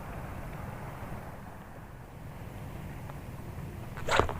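Strong wind while fishing rushes and buffets the microphone steadily with a low rumble, ending in a brief louder gust or rustle.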